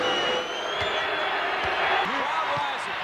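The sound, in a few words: basketball arena crowd cheering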